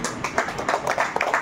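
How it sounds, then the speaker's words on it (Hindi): A church congregation at a Hindi-language worship service claps hands together in a quick, steady rhythm, the claps close and lively with no talking over them. "हम परमेश्वर के लिए ताली बजाएंगे।"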